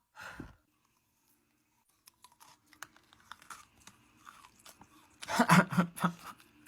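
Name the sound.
crunchy chewing of Ice Crispy Balls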